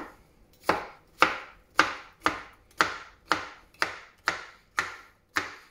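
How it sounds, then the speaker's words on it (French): Peeled, deseeded courgette cut into small cubes with a knife on a board, a regular series of about ten crisp, close chops at an even pace for a pistou soup. "je vais la couper en petits carrés, en petits cubes"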